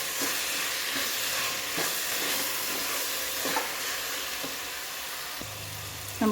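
Vegetable biryani with ground masala stirred in a hot pan gives a steady close sizzle, broken by soft repeated scrapes and knocks of a spoon against the pan.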